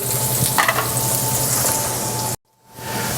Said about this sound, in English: We're going to put our 1/4 cup of onion in there. Just soften that up for a little bit.